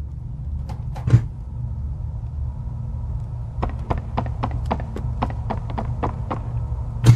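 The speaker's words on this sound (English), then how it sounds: "the door creaking, opening, and closing is not necessary." A door in the Poppy Playtime video game opens and closes over a steady low rumble. A heavy thud is followed later by a rapid series of clicks and knocks, then a final thump, with no talking.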